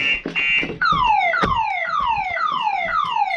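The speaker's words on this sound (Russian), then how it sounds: "Вот такой вот писк." A car alarm blares at close range, a loud electronic siren cycling through quick repeated descending whoops, with a few shorter chirps at the start.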